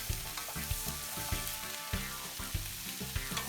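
Onions with salt, sugar, pepper, chili flakes and chopped aromatic herbs are stirred in a hot frying pan, with a steady sizzle and repeated scraping strokes of the spoon across the pan.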